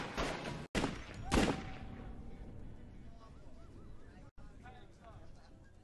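Loud bursts of gunfire from the film City of God ring out early, then fade into a tense, quieter background with faint voices.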